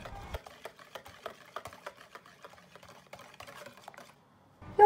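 Dough mixture of flour, salt and baking powder being stirred in a bowl, a series of soft, irregular close scraping and tapping strokes, with a louder knock right at the end.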